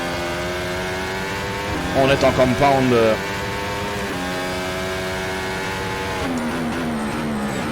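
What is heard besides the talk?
modern Formula 1 car engine in rFactor 2 video game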